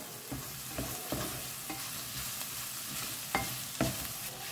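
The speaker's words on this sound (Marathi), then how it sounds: "ओके ते घालता बरें ताका मिक्स करून घ्या" Clams in masala are stirred in a pan for a Goan seafood dish, with a constant low sizzle and scattered soft scrapes and taps of the spoon, quiet and unbroken by speech.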